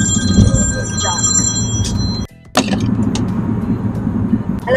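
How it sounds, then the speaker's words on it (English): A telephone rings inside a moving car on the highway, its bright tones sounding over road and engine noise. The sound cuts out briefly, then rings again amid background voices. "We're going down 35, and the phone rings"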